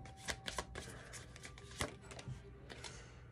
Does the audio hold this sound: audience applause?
no